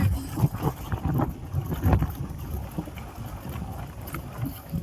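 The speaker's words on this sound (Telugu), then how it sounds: "చూసారా గాలి ఎంత బాగుందో" Wind gusting outdoors on a hillside road toward a Vishnu temple at Nemalikonda, a rough blustery rush in the microphone with uneven surges, loudest in the first two seconds, then a steadier fainter roar.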